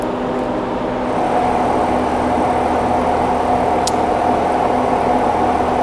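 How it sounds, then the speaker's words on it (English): A DC motor on a test rig, powered at 10 volts from a supply, gives a steady, close tonal hum with a faint whir that holds evenly throughout, and no voices. "we start the motor"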